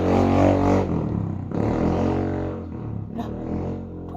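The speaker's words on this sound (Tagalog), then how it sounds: "Dako kigtingog ang motor, no?" A loud motorcycle engine rumbles and revs close by, a heavy low drone with rising and falling throttle surges and no talk over it.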